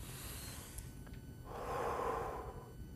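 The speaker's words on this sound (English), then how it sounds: "And so taking that breath" A single deep breath is drawn in a quiet room, a soft, close airy inhale swelling for about a second, alone, without speech.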